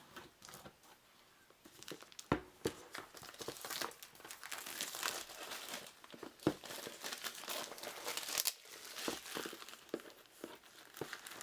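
Plastic wrapping crinkles and crackles steadily as a Clank!: Sunken Treasures board game box is unwrapped, with sharp louder crunches scattered through the close, continuous rustling.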